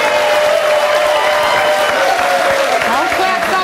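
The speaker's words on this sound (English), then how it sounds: "Don't clap so soon." Studio audience at a daytime talk show breaks into loud, sustained applause with cheering, while voices talk over the clapping.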